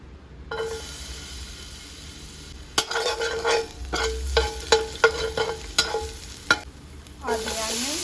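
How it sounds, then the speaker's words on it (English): Vegetables sauté in coconut oil in a hot pan: a steady sizzle runs throughout while a utensil stirs and scrapes in an uneven series of sharp, close knocks. "Now I'm going to saute all the vegetables."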